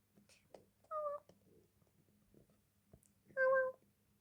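A cat meows twice, two clear, drawn-out calls a couple of seconds apart, with a faint murmur of background noise between them.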